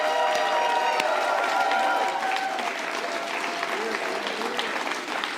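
A crowd applauding and cheering for election volunteers at a Canadian federal election night event in Saanich Gulf Islands, dense sustained clapping with scattered shouts, close and loud throughout.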